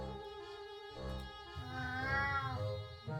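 A cat meows several times in the 60 Parsecs! video game, first a short call, then a longer rising-and-falling meow, loud and close with no talk.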